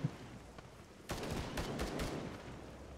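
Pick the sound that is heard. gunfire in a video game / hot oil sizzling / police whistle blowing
gunfire in a video game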